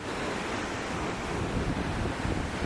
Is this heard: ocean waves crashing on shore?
yes